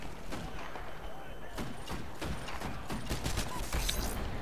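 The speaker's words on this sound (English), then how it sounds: "Love the smart pistol." Smart pistol in Titanfall fires a rapid burst of crisp shots, clustered toward the end amid busy battle noise and mechanical clatter, with a voice talking over the action.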